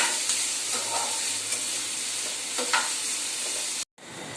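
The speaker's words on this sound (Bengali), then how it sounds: "পেঁয়াজটাকে আমরা হালকা লাইট ব্রাউন ভাবে ভেজে নেব।" Onions frying until light brown make a dense, steady sizzle with occasional stirring scrapes, close up, broken by a short silent gap near the end.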